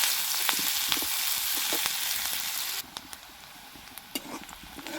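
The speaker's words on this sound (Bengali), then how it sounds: "পেঁয়াজটা একটু হালকা করে ভেজে নেব।" Onion sizzles lightly in a pan of hot oil for egg curry, a steady close frying hiss that drops quieter partway through, with occasional soft stirring clicks.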